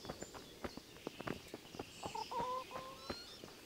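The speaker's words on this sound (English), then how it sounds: "That's what happens when you hit a chicken with a fist." Chicken clucking after being struck by a fist in Kingdom Come: Deliverance, with short agitated clucks mixed with scattered footsteps and sharp taps in a quiet outdoor game scene.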